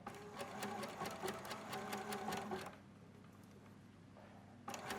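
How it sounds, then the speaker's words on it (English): Sewing machine fitted with a blind hem foot, stitching a blind hem on a coat sleeve cuff: a steady rapid needle clatter for under three seconds, then a quiet pause before the motor starts again near the end. "I'm using the blind hem foot and the blind hem setting on my machine."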